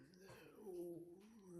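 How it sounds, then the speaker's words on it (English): A dog whimpers with a high, drawn-out whining tone, faint and in the background, with speech-like sounds mixed in. "If you hear my dog in the background,"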